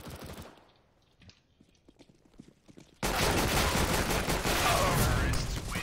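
Gunfire from CS:GO on the Inferno map: a few scattered shots at first, then a sudden, loud, dense automatic burst that fills the second half.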